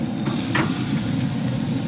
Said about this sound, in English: You wanna hear that sound, you wanna hear that sizzle.